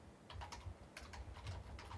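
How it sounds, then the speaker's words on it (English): Rapid typing on a computer keyboard, keys clattering in quick irregular bursts, faint and close in a quiet room. "You can hear me typing."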